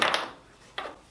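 Hammer striking glued wood test pieces to break the joints, two quick sharp knocks at the start and another crack shortly after, close and brief with no talking.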